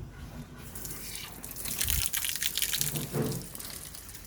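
Water from a filtered tap splashes and gushes into a container, swelling from a light trickle into a fuller, louder pour before easing off.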